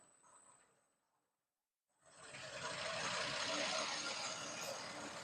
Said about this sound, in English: That's the machine running at 50 RPM